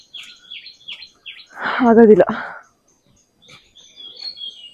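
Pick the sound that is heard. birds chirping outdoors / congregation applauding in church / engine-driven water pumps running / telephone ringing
birds chirping outdoors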